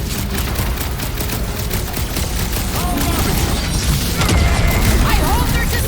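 Dense, continuous blasting from weapons in the Guardians of the Galaxy video game, loud and close, with crashing impacts and mechanical clatter piling up across the whole stretch.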